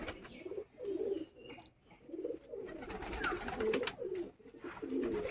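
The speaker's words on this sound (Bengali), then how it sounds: "এটা নর পায়রা, তাই তো?" Racing pigeons, including a male bird, coo softly in repeated low throaty phrases, with a few faint chirps and no talking.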